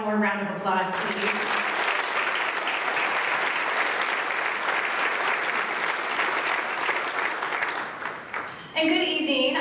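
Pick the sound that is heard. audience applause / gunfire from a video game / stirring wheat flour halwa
audience applause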